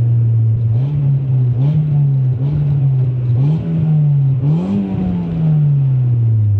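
A Honda Civic with a stainless steel exhaust line accelerating: a steady, loud droning engine note that rises and dips with repeated throttle blips and gear changes, close and continuous.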